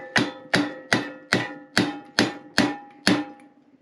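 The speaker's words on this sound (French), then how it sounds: "Petit coup de marteau pour l'aider à se mettre en place." A hammer taps a metal part into place on a BMX Cub motorbike being converted to 125 cc, eight strikes in a steady rhythm, each blow sharp and ringing briefly, close up with no talking.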